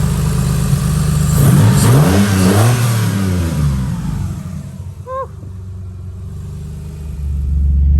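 A Mitsubishi Eclipse engine fitted with a new manifold revs hard and close, its pitch rising and falling through a couple of loud pulls before settling into a lower rumble and revving up again.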